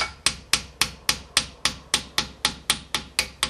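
Seized brake wheel cylinder pistons on a Spyder RR being tapped out with a hammer: about thirteen sharp metallic taps in a fast, even rhythm, each ringing briefly, close and alone.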